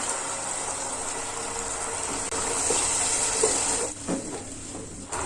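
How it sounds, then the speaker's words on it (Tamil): About half a cup of water pours steadily into a pan of mushroom masala sauce, a continuous splashing rush that wavers and breaks up near the end. "1/2 கப் அளவுக்கு தண்ணி ஆட் பண்ணிக்கலாம்."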